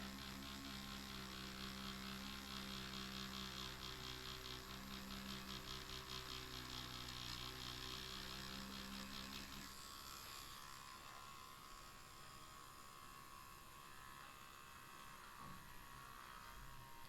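Dragonhawk X3 tattoo machine buzzing steadily at close range with a continuous electric hum, louder for the first ten seconds and then dropping to a softer, thinner whir.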